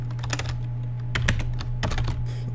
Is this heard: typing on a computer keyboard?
yes